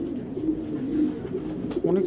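A tiger grizzle pair of racing pigeons coos in low, rolling, repeated murmurs, close and fairly loud throughout a short stretch, with a faint voice in the background.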